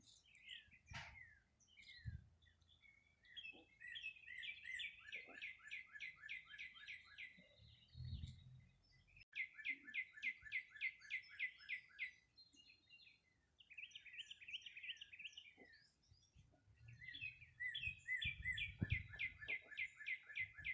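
Birds chirp in repeated bursts of quick, bright notes, with pauses and some low background rumble between phrases.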